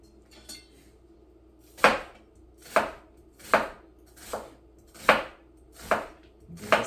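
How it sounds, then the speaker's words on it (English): A knife chops through an onion on a cutting board in about seven evenly spaced, crisp thuds, close and distinct against a quiet kitchen background. "Give this a chop."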